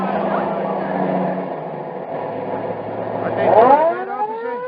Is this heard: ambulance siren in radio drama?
yes